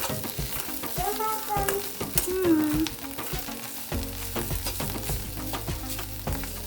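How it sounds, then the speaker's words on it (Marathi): Grated carrots frying in ghee in a pan for carrot halwa, a steady close sizzle with occasional stirring scrapes, some faint background tones early on. "इथे गांजर असं छान असा तुपावरती भाजून झालेला आहे"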